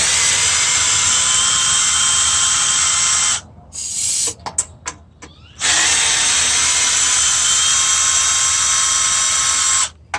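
A power driver with a 3/8 socket whines loudly, removing bolts on a John Deere JS35 mower, running in long steady bursts broken by a few short stuttering pulses and a brief pause, close and with no talking.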